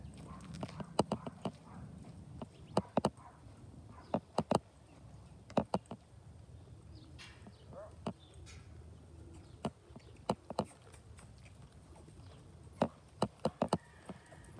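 Horse hooves loping on the ground during a training ride, a series of sharp, irregular footfall clicks in small clusters, moderately close, with faint birds and outdoor background and no talk.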